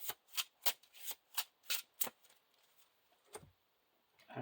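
Cards from the Lord of the Rings living card game being shuffled into a deck, a run of seven crisp, evenly spaced riffling bursts close by, then a pause and one last soft shuffle.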